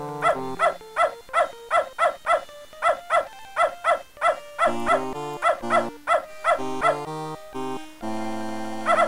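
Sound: dog barking in the video game Beneath a Steel Sky

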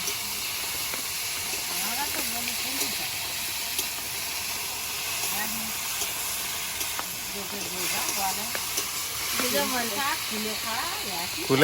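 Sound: kulekhara greens sizzling as they are added to hot oil

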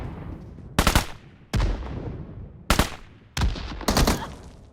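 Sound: weapon firing bazooka rounds in PUBG Mobile video game

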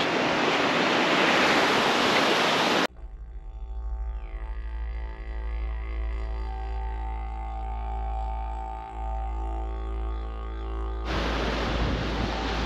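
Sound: waves on Thistle Cove beach

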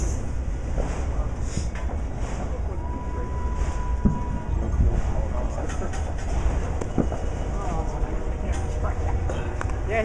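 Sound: Amtrak train passing

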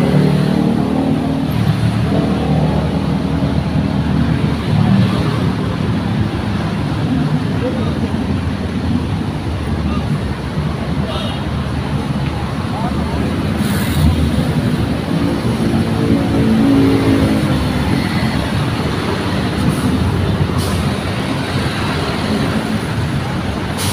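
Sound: front-engine PO Haryanto bus engine running

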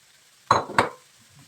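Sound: mushrooms frying with onions in a pan

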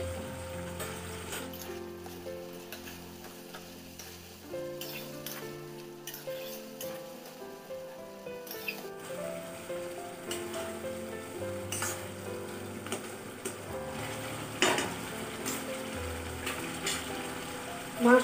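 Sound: frying meat with spices in a pan

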